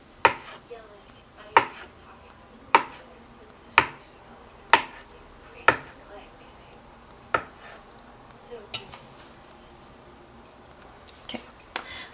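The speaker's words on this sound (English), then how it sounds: "So I like to kind of just cut it in 1/2-inch size cubes" A knife chopping food into half-inch cubes on a board for huevos con chorizo, with sharp, evenly spaced single chops that slow and thin out toward the end, close and clear.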